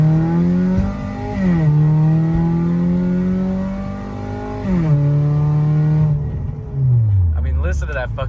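A rigged Ford Fusion engine revving loudly out of the downpipe, holding a rough droning pitch with a couple of sharp rev spikes before winding down, recorded close with a voice speaking over it near the end.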